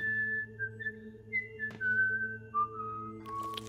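A person whistles a wandering, sliding melody in clear, steady tones, with a brief sharper accent partway through and a low, constant hum underneath.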